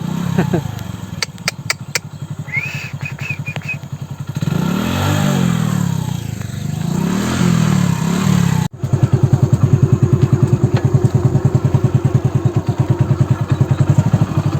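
Motorcycle engine running nearby with mid-pitched clatter and revving swells, steadying into a loud continuous rhythmic idle-like drone in the second half, with voices speaking over the first part.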